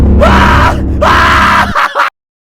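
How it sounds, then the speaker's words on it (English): Several people scream together in a loud, drawn-out horror effect, with two long sustained cries followed by shorter strained gasps before the sound cuts off abruptly into silence. "You can still hear their screaming."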